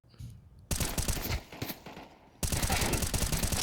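Sharp gunshot bursts in a professional CS:GO esports match, a short volley followed by heavier, sustained firing, loud and close.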